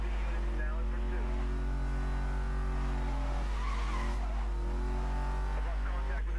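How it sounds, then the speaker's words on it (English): A Porsche Panamera Turbo S in Need for Speed Most Wanted surges on nitro boost, a loud steady engine roar with tire skids and squeals over a heavy low rumble, with a voice talking over it. "I'm speeding up using nitros."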